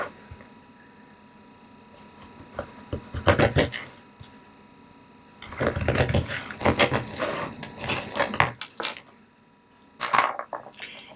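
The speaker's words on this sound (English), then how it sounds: "just give it a little sand with like an emery board or an old nail file" An emery board or nail file sands the rough edges of a handmade Valentine's Day craft coaster, making close, scratchy rubbing strokes in short bursts separated by quiet pauses.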